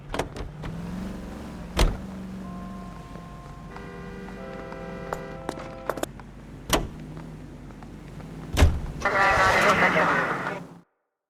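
A car drives through 1940s Los Angeles in the L.A. Noire video game, a low engine hum running steadily underneath sharp clicks, thuds and brief tonal bursts, ending with a louder hissing rush before cutting off.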